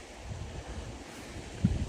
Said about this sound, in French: Je vais attendre 2 secondes que le vent il passe quand même au cas où